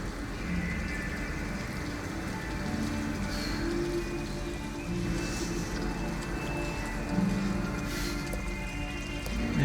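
Steady rain falls on a November night in Detroit: Become Human, a continuous, even hiss with faint scattered drips and no voices.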